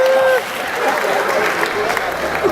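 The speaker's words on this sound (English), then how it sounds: "Please give him a round of applause" An audience applauds at a comedy roast for Julius Agwu's 40th birthday. The clapping is dense and loud, with no voices over it, and carries on steadily through the whole stretch.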